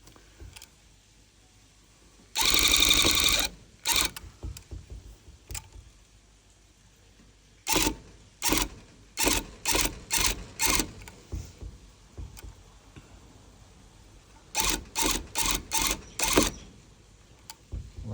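A tufting gun fills a small gap in a rug. It buzzes in short, loud mechanical bursts, one long run followed by regular rhythmic pulses separated by quiet pauses, close up with faint background.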